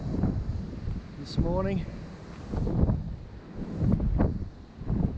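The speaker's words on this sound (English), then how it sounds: "You can probably see and hear how windy it is." Strong wind roaring across a mountain ridge on the Appalachian Trail in Shenandoah National Park, buffeting the microphone in loud gusts with a bird call briefly audible, while a hiker talks over it close by.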